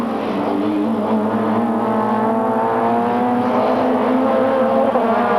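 Supertouring race cars of the 1995 French championship battle for the lead at Paul Ricard, riding up the kerbs, their engines a loud, steady, close drone that holds throughout with no break.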